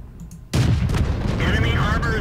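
A loud artillery blast from a World of Tanks match erupts sharply and then rumbles on under continuing game noise, with a voice talking faintly.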